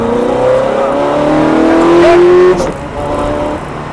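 A Ferrari F430 accelerates hard on the Lédenon race track, its engine note climbing steadily in pitch through a gear before dipping briefly, loud and continuous with no talk over it.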